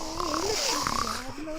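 Snoring with a rising and falling wheezy drone, sounding like a voice imitating a sleeper's snore, steady and close.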